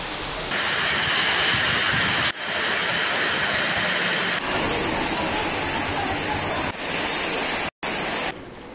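Heavy, unexpected downpour in Mukkam town and North Karassery in hilly country, a dense, loud hiss of rain that runs through several abruptly joined stretches, with one brief cut near the end.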